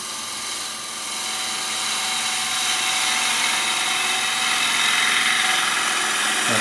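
A wood lathe turns a green-wood kuksa cup while a gouge undercuts its rim, a steady broadband shearing hiss with a whining motor tone, close and continuous, swelling slightly louder toward the end.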